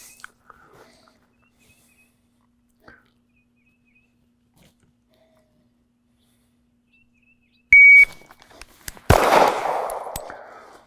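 Near-silent waiting is broken by a short, sharp electronic shot-timer beep, followed about a second later by a single loud pistol shot with a brief ringing decay, during an Air Marshal qualification drill.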